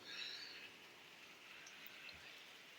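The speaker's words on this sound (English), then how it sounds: "Nice rainy day here." Steady rain patters down, a soft continuous hiss with scattered drops, fairly faint and even throughout.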